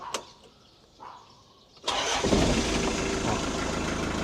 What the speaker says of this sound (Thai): เดี๋ยวมาลองสตาร์ทฟังเสียง